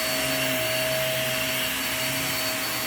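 A household vacuum cleaner runs with a steady motor whine and airy hiss at moderate level, its pitch shifting slightly as it moves, with no voices.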